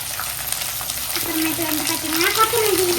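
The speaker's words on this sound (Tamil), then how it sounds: "ஒரு கோல்டன் ப்ரௌன் வர அளவுக்கு நம்ம வந்து வதக்கி எடுத்துக்கலாம்" Onions, green chillies and curry leaves sauté in hot oil for a Sunday chicken gravy, giving a steady close sizzle with scraping stirs. A light tonal whine rises and falls over the frying.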